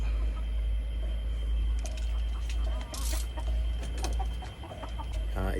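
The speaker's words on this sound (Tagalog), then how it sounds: "Ito nga pala ang stag na pupurgahin natin mga kuys, si Agimat Jr." A young stag rooster clucks in short bursts around a farmyard, his calls close and moderately loud over steady outdoor background noise, kept as poultry being dewormed with betel nut.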